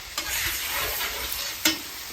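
Fried rice sizzling steadily on a hot griddle with oil, a continuous close frying hiss with a couple of brief scraping stir sounds.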